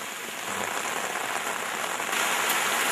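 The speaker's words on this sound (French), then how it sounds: "Sous une pluie battante, nous irons sur le site du chef Fauza." Heavy rain pours down steadily outdoors, a dense, even hiss of drops striking surfaces, loud and unbroken throughout with no voices.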